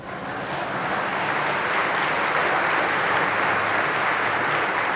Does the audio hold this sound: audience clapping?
yes